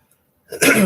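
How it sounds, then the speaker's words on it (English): After a brief silence, a single close cough bursts out, harsh and breathy. "I'm sorry I'm coughing in your ear."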